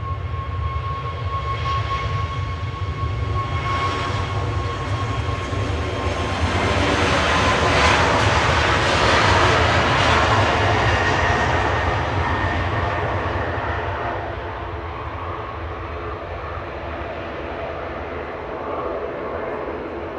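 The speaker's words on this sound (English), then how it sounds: "Ryanair 555 to Dublin now," A Ryanair Boeing 737 Max 8 jet departs, its engine roar swelling loud and broadband to a peak midway, then easing into a sustained, slightly fading rumble, heard alone without talk.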